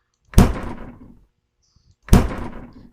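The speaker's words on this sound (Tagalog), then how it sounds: "Grabe ang lakas magbukas ng pinto." A door in the Japanese psychological horror game Akai Onna opening loudly: two heavy, booming thuds about a second and a half apart, each ringing out briefly into silence, no talking over them.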